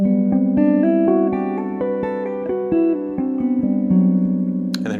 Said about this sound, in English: I'm going to play the natural note and then artificial harmonic, and we just alternate all the way up.